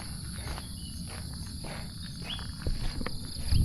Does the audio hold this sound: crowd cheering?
no